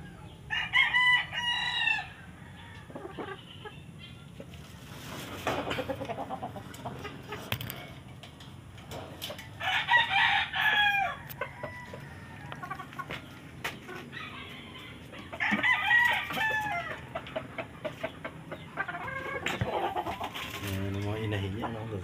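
Hens and roosters, including a sweater gray broodstock trio, clucking with several roosters crowing at intervals, fairly close, while people talk in the background throughout.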